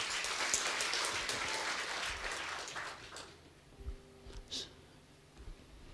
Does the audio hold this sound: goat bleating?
no